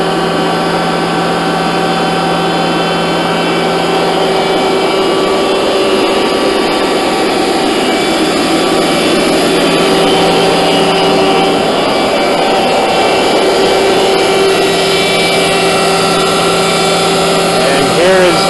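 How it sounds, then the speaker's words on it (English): The spindle drive of a Leifeld PLB 1200 spinning lathe runs with a loud, constant mechanical whine and hum, holding steady tones close by from start to finish. "Now we're going to attempt to drive the spindle drive."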